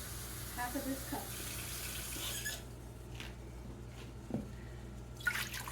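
Tap water runs steadily into a measuring cup in a home kitchen, a soft continuous hiss for the first half before cutting off, followed by faint clinks and small handling sounds.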